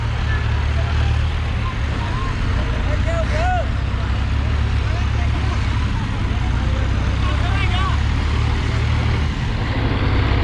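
Mahindra, New Holland, Kubota and Powertrac tractors race, their engines making a loud, steady, close diesel drone that holds without a break, with voices faintly over the top.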